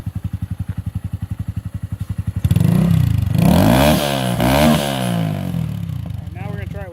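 Racing motorcycle exhaust fitted with its silencer baffle idles with a steady pulsing beat, then is revved hard into a loud, sustained roar that rises and falls a few times, with voices talking over it.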